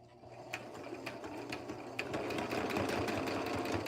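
A sewing machine stitches a vest with pins still in place, a steady close mechanical whir with a rapid needle rhythm running throughout and growing slightly louder.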